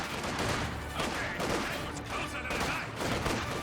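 Rifle grenades and small-arms fire sound in a Company of Heroes 2 multiplayer battle, a dense run of overlapping muffled blasts and shots in steady waves, with game noise and commentary talk mixed in.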